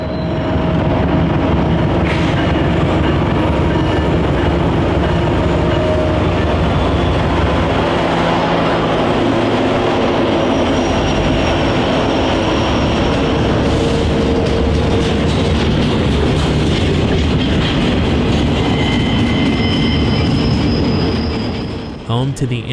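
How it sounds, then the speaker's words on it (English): A Union Pacific train on the steep Donner Pass railroad grade in Northern California rumbles past close by, loud and continuous, with squealing wheels and clattering cars before it cuts off abruptly at the end. "chasing trains on one of America's toughest railroad grades, Donner Pass"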